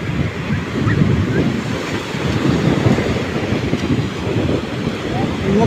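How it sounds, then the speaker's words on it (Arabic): Calm sea waves wash steadily onto the sand at a public beach on Naqaba Street in Shahr al-Asal, a continuous soft rushing surf with some wind buffeting the microphone throughout. "الموج هادي كمان."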